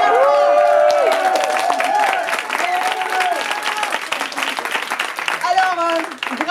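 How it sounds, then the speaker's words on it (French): An audience at a French presentation event claps loudly and continuously, a dense sustained wave of applause that fades slightly toward the end, with some voices mixed in. "On les applaudit bien fort."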